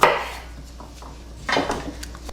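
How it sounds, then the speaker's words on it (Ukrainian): A knife slicing through garlic cloves on a board while preparing crunchy pickled cabbage with beet, heard as one firm cut at the start and a second crisp cut about a second and a half later, close and fairly loud. "Часник також пополам розрізаємо."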